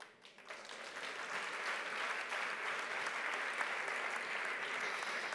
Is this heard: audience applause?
yes